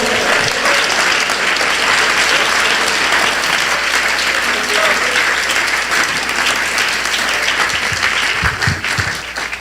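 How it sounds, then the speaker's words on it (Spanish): A church congregation claps steadily and loudly throughout a worship service, a dense sustained wash of applause with faint voices mixed in. "Dele ese aplauso a Jesús, por favor."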